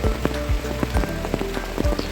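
Heavy rain shower pours down in coastal Konkan countryside near Dapoli, a dense, steady hiss of drops drumming on surfaces that stays close and loud for the whole stretch, with no voices.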